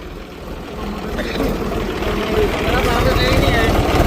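A tractor engine idles with a steady low rumble throughout, growing slightly louder toward the end, while people talk over it outdoors on a farm.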